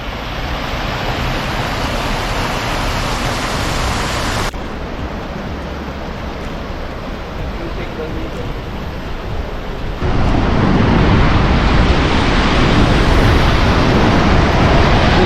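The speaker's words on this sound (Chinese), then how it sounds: "这边就是瀑布的出海口了" A snowmelt waterfall at Trollstigen, Norway, roars as a dense, unbroken rush of falling water, loud and steady, growing louder in the last few seconds.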